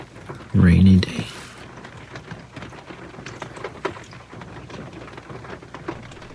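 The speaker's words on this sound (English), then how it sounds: "Rainy day." Rain falls steadily during a spring bear hunt in Oregon, a soft continuous patter broken early by a loud blast of wind or handling noise, with a voice speaking briefly over it.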